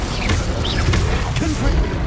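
A fire spell cast in a wizard video game: a loud, dense burst of rumbling low noise with sharp crackling transients and brief whooshing sweeps, sustained over two seconds.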